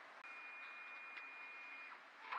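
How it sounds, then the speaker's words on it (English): A flatbed scanner scanning fabric hums and whirs as its carriage travels, a thin steady tone over mechanical noise, ending in a brief rattling clatter. "Now I'm scanning other fabric. Sorry about the noise, but it's working."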